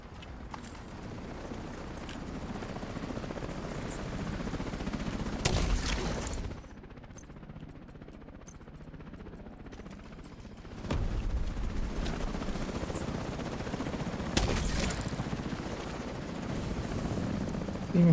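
Helicopter rotor drone from a video game chopper, steady and loud through most of the stretch, broken by sharp bursts of gunfire and impacts, with a brief quieter lull in the middle.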